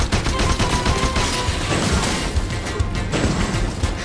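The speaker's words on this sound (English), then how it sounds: "Are you faster than bullets?" Rapid gunfire bursts and crashing impacts from the action video game F.I.S.T. Forged In Shadow Torch, loud and continuous with overlapping shots and game effects.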